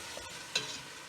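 A spoon stirs Christmas vegetable soup in a pot, making one brief, soft scrape and slosh against a quiet kitchen background.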